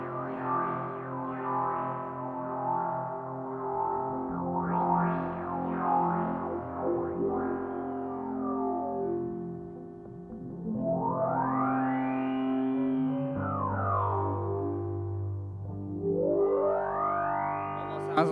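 Sweeping, pitch-bending synthesizer tones wash through a splashy, echoing spring reverb from an effects pedal, rising and falling over a sustained drone.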